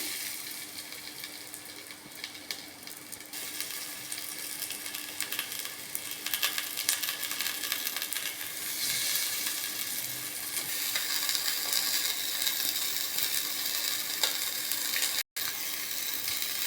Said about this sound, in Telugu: సో ఇప్పుడు మనం మ్యారినేట్ చేసి పెట్టుకున్న ఫిష్ పీసెస్ని ఒక్కొక్కటిగా ఇందులో పెట్టుకోవాలి.